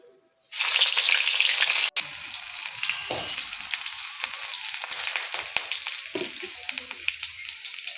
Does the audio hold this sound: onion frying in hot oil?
yes